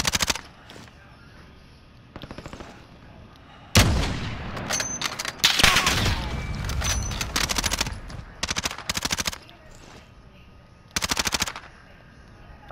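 Bursts of automatic gunfire and scattered shots in a Call of Duty Warzone firefight, loud and close, coming in several separate volleys with quiet gaps between them.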